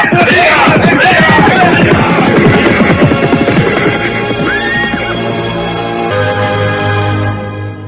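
Horses whinny loudly over a rapid clatter of hooves, then the galloping fades into the distance, leaving a low steady hum, in an Indonesian radio drama.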